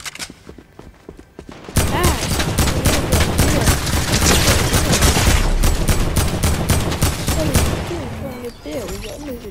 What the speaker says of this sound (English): Continue shooting him.